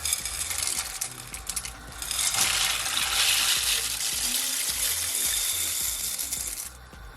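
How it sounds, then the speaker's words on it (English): Dry macaroni pours into a pot of water on a stove for mac and cheese, a steady rattling, clattering rush of hard pieces that swells midway and holds fairly loud for several seconds before easing off. "now I'm gonna add our pasta"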